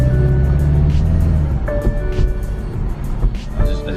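A 2019 BMW 330i xDrive M Sport sedan pulling away, its engine droning low and steady before the note shifts and fades slightly, with faint clicks and tonal hums over a continuous rumble.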